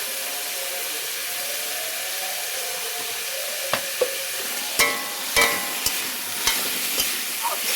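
Pumpkin pieces frying with turmeric and salt in a pan, a soft continuous sizzle broken by several sharp scraping and clacking stirs in the second half, close and clear with no talking.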